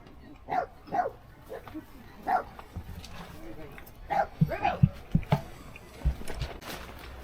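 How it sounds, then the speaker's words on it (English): A farm dog gives short, clipped, quacking barks like a duck, several bursts spaced irregularly, close by, with a person's voice heard faintly between them. "You ever heard a dog bark like a duck?"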